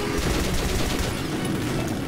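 Sustained gunfire from Metro Last Light rattles as a dense, continuous roar of rapid shots, loud and close throughout.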